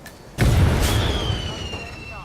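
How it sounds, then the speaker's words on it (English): A sudden loud explosion erupts in the Hitman video game, a heavy low boom with a sharp onset that rumbles on and slowly decays, followed by a lingering rising tone and scattered debris-like noise. "An explosion."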